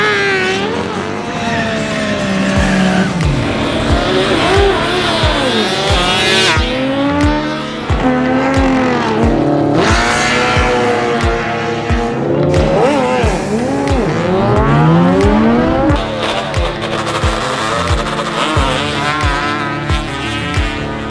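A 500cc racing scooter engine screams at high speed, its loud whining pitch rising and falling repeatedly through gear changes and throttle swells, with occasional nearby engine bursts and no talk over it.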